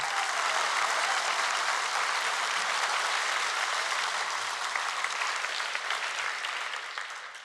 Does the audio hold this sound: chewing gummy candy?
no